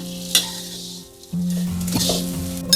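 Chili flakes and sugar sizzle and are stirred in a hot pan for a Thai enoki mushroom chili paste, a steady frying hiss broken by a brief pause and occasional scrape and clink of the utensil.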